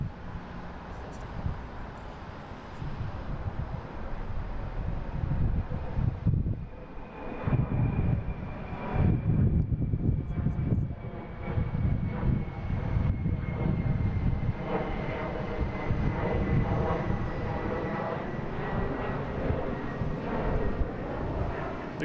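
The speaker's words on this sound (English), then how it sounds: "We have a Delta heading to JFK. Flight 5814." A Delta airliner bound for JFK rolls at Boston Logan, giving a sustained roar of jet engines heard from moderate distance that swells and holds steady, with faint voices now and then.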